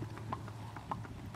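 Hooves of an 11-year-old tricolor spotted saddle horse gelding, close to 15 hands, clip-clopping in a smooth running walk on a country road: soft, steady, evenly spaced beats at moderate distance, with no talk.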